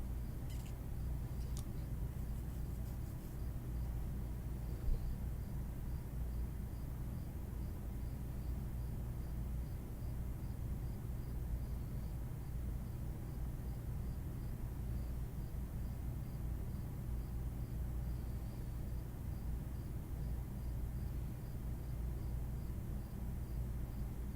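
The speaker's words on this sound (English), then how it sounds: "The one thing you can probably hear most of all now instead of my PC is the crickets outside the window." Crickets chirp outside a window at night in a faint, steady, high pulsing trill that runs unbroken over low room hum.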